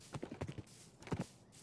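Hooves of a big, muscular horse clip-clop in Minecraft, two quick bursts of several close, crisp steps separated by a brief pause.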